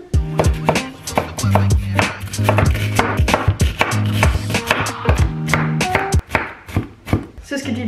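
A knife chops onions on a board in a quick, uneven run of sharp, close taps, with a voice faintly underneath.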